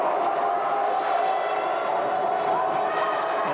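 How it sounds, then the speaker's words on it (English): A women's college basketball crowd in a packed gym cheers and roars steadily, a dense, continuous wash of voices and whoops that never lets up. "This Keystone crowd making noise."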